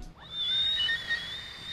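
A person whistles in an unusual self-taught way, a thin, wavering high tone that stops and starts over a quiet background with no talk.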